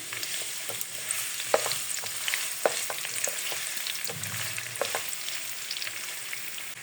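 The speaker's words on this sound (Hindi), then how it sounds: "अब हम इसको इस ऑयल में अच्छी तरह फ्राई कर लेंगे।" Red and yellow carrots fry in oil with a steady, close sizzle, broken by scattered clicks and scrapes of stirring, with no voices over it.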